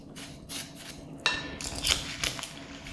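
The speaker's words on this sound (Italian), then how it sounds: "mescolo tutto." Metal spoon stirring cherries and sugar in a pot for homemade cherry jam, with soft scraping and several sharp clinks against the side, close and fairly quiet.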